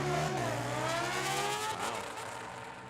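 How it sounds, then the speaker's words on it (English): A drag racing vehicle at Tucson Dragway runs hard down the track, its engine note dropping abruptly as the driver misses the 2-3 gear shift, then fading away into the distance. "sounds like Wes missed that 2-3 shift"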